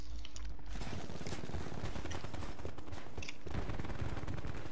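Call of Duty Black Ops 4 Hardpoint match gunfire: rapid automatic bursts and overlapping shots crackle almost continuously, loud and busy, with distant explosions and game effects behind and no talking.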